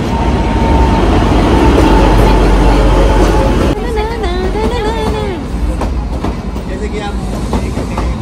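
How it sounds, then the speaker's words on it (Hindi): The Kalka–Shimla train pulls into Shimla railway station with a loud, heavy rumble that gives way to wavering wheel squeals and clatter, while a person speaks briefly nearby. "तो ये आ गई है देखो ट्रेन"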